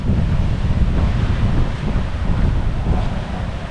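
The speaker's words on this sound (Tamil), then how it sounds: "தண்ணியும் சும்மா பயங்கரமாக கொட்டுதுங்க" A steady, loud roar of heavily pouring water from Masila Falls in the Kolli Hills, Tamil Nadu, fills the whole clip, constant and close, with no voices.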